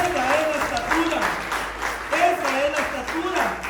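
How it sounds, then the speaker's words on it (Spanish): A church congregation applauds in a dense, continuous wash of clapping, with voices singing or calling over it. "Dale un aplauso a la presencia del Señor."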